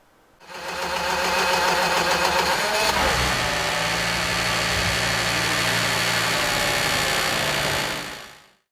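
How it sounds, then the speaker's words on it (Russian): A car engine starts at a school students' vocational skills championship and settles into a loud, steady roar close by that holds for several seconds, then cuts off abruptly. "Рев мотора – признак того, что двигатель завелся."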